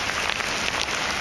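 Rain pours down in a heavy downpour: a dense, even hiss of falling water with faint patter, steady and moderately loud over a brief moment, with no talking.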